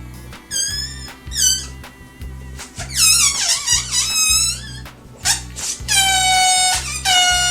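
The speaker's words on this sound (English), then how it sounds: "you pinch the top, and you just let the air out really slowly, and it makes a fantastic noise" A pinched balloon lets air out slowly in a series of high-pitched, warbling squeals and squeaks, loud and close, in bursts of varying length over a faint background hum.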